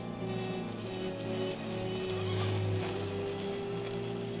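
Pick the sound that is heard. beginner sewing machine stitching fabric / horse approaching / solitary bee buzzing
horse approaching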